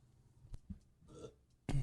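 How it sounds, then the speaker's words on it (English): A single loud belch close into the microphone on a talk podcast, a short burst at the end after a few faint thumps and murmurs. "I've been instructed by some listeners not to belch, so I had to hit the mic."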